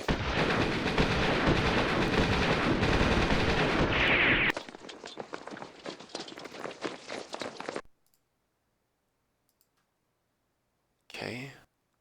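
Gunfire from a platoon engagement in the Campaign Series: West Front wargame: a dense burst of loud rattling shots and blasts for several seconds, then sparser clicking bursts, silence, and a short final shot.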